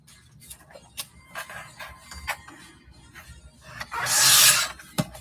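Paper edge being trimmed for a junk journal embellishment, a few soft rubbing, rasping strokes followed by one louder, longer scraping pass near the end, close and with no talking.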